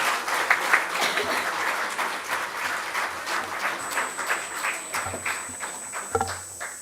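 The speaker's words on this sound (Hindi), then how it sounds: "मैं चाहूँगी कि एक बार जोरदार तालियाँ होनी चाहिए।" An audience at a digital media awards ceremony applauds with sustained, uneven clapping in a large room, with a faint steady tone and a few thumps near the end.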